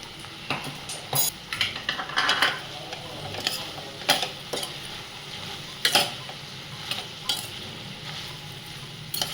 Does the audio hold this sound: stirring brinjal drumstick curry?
yes